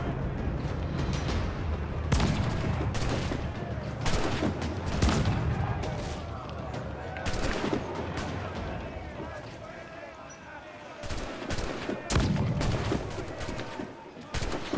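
Guns firing in a video game, heavy bursts of gunfire and booming shots repeating through the whole stretch, loud and close, with players talking over it.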